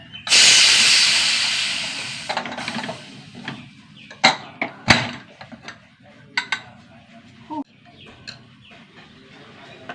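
A pressure cooker making a curry releases a strong, hissing burst of steam at the start that fades over about two seconds. Scattered clinks and knocks of kitchen handling follow close by.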